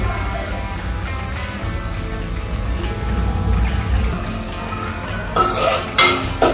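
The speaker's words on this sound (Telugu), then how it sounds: "ఫ్లేమ్లో పెట్టుకొని ఆనియన్స్ ఫ్రై చేసుకోవాలి" Onions fry in a pan over a medium flame while a utensil stirs and scrapes them, ending in a few sharper clinks against the pan, with no voices.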